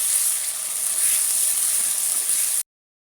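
A ground paste of onion, garlic, dried chilli and cumin hits a hot wok with a steady, bright hissing sizzle, heard close and alone until it stops abruptly.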